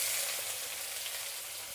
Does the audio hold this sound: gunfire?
no